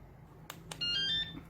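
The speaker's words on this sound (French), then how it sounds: "mon alarme est intégrée dans le tube ici" A few faint knocks, then a thin, high electronic bike anti-theft alarm, hidden inside the bike's frame tube, chirps and warbles briefly, muffled and fairly quiet.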